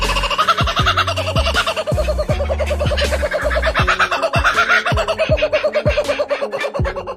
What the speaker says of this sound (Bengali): একটি পাখি মন খুলে সুর তুলেছিল